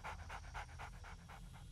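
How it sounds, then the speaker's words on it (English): A dog in 7 Days to Die panting close by, with about eight quick rhythmic breaths, fairly faint over a low steady hum. "That dog sounds like he's right behind me"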